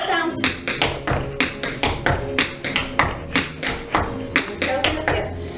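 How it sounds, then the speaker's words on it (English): Tap shoes on a hard floor in a beginner tap class, beating out quick toe-toe-heel-heel steps in a steady repeating rhythm of sharp, close, loud clicks. "Toe, toe, heel, heel."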